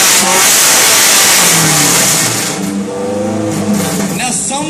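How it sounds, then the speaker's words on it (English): A Formula 1 racing car engine at a motor show revs loud and sustained, holding a high roaring pitch before settling and surging again, with a crowd and voices faintly audible beneath. "Now is the final time that I'll rev the engine."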